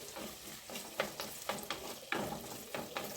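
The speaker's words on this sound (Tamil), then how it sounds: "பூண்டு போட்டு பூண்டு கொஞ்சம் வளர்ந்து வெங்காயம்." Garlic and onion frying in oil for an eggplant and dried fish curry, a steady close sizzle broken by several sharp stirring scrapes and clatters, with no voices.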